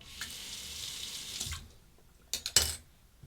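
A razor is rinsed under a running tap, giving a steady, close stream of water, then a brief pause before a few louder splashing bursts at the end.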